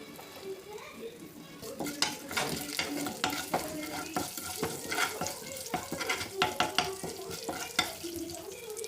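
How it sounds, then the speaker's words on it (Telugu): A dried red chilli, garlic cloves and tempering spices crackle in a spoonful of hot oil in a kadai for tomato chutney. Sharp, close pops and spatters come in quick irregular bursts over a low sizzle, with light ladle clinks. "ఒకటి ఎండుమిర్చి వెల్లుల్లి రెబ్బలు పోపు దినుసులు వేసుకుందామండి"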